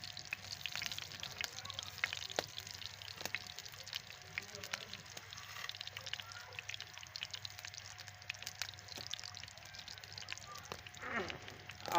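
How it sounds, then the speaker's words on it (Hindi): Vermicelli (sewaiyan) frying in ghee in a pan: a faint, steady crackling sizzle with occasional clicks and light stirring throughout, no voice heard. "हमने घी के अंदर इनको थोड़ा सा फ्राई कर लेना है"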